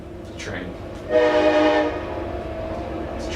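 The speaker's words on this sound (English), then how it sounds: "It's a train." A train passes with its horn sounding, a loud sustained tonal blast over steady rumbling, heard fairly close and alone.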